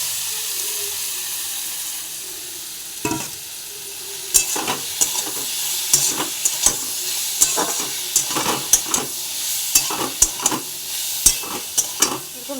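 Marinated paneer frying in a pan with capsicum and tomato: a steady sizzle runs throughout, with irregular scraping and clinking strokes of stirring growing busier in the second half, close and fairly loud with no talk.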